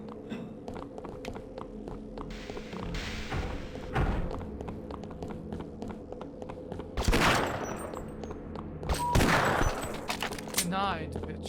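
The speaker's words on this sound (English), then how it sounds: "one magnum shot" Gunfire in the co-op game Half-Life Sven Co-op, a few sharp magnum-style shots cracking out at intervals over a busy background of game sounds, footsteps and thuds, with people talking throughout.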